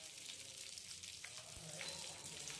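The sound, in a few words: curry leaves and red chillies sizzling in hot oil for tadka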